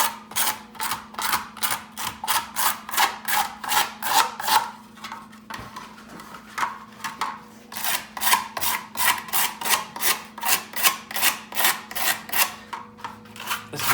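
A stout rougher scrapes over a deer ear liner form in quick, rhythmic rasping strokes, close and fairly loud, with a short pause midway before the steady back-and-forth roughing resumes.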